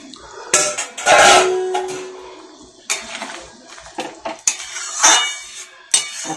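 Eggs slipped into a pan of water for a dhaba-style egg curry, with sharp metallic clinks and clatters of utensils against the pan, a brief sizzle and scattered knocks throughout.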